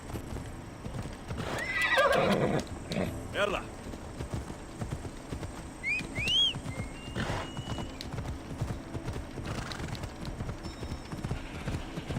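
Hoofbeats clip-clop from a horse in Assassin's Creed Odyssey, with a clear neigh rising partway through, set against game ambience while someone talks over it.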